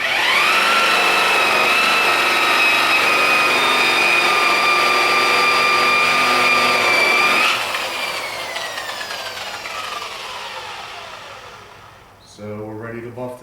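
A buffing wheel spins at a couple thousand RPM, polishing a 30-year-old Ford factory rivet rim with cutting clay. It gives a loud, steady whine for several seconds, then winds down, and a voice speaks at the very end.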